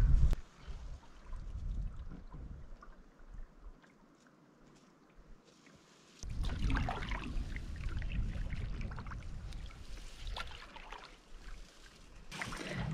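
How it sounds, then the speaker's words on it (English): A canoe paddled on a Scottish loch in Glen Affric, with quiet splashes and water swirls that grow louder and more continuous partway through, under a soft breeze. "So now we're just nicely paddling along."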